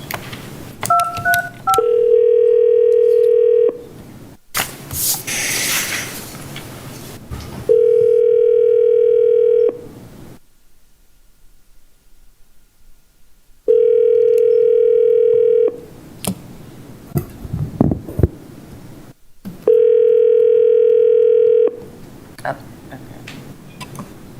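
Telephone dial tone on a county Board of Appeals conference call, sounding in four long steady bursts separated by stretches of keypad dialing tones and clicks, with some talk in between.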